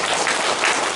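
A church congregation at a Sunday service in Pyeongtaek breaks into dense, steady applause, a full wash of many hands clapping at once.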